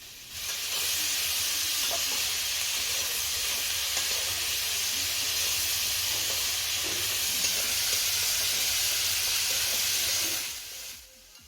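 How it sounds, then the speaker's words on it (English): Onions browning with salt in a pan for kadai aloo give off a steady, close broadband sizzle that holds for about ten seconds before cutting off, with no voices. "That amazing sound of onion."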